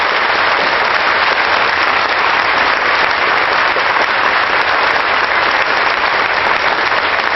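Loud, dense applause from a church congregation, steady and continuous throughout with no voices rising above it.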